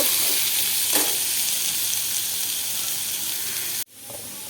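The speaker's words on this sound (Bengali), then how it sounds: "এই যে পটলগুলো ভেজে নিচ্ছি" Pointed gourd (potol) slices frying in hot oil, a steady close sizzle that holds for several seconds and then cuts off abruptly near the end.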